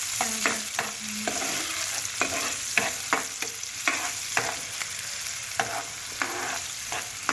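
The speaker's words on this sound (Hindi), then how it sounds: "और इस तेल को गरम कर लिया। अब इसमें हमने प्याज ऐड कर देंगे।" Chopped onions sautéing in hot oil in a pan, with a steady close sizzle broken by repeated sharp stirring clatters at an uneven rhythm, no voices.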